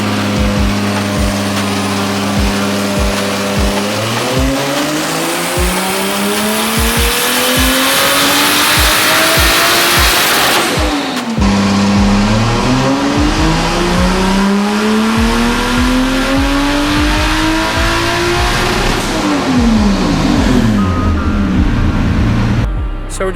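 A Nissan S14 drift car with an RB25 engine runs on a dyno, revving loud and close through repeated rising gear pulls with sharp shifts between them.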